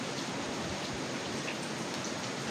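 Heavy, steady typhoon rain roars continuously, with a broad hiss of wind-driven downpour and scattered drops, loud and close throughout, with no voices.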